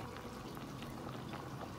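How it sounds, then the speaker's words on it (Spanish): Chicken boiling in a pot makes a faint, continuous bubbling and gentle simmering crackle, steady and quiet with no talk. "Y el pollo está hirviendo."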